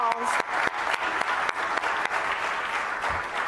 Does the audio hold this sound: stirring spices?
no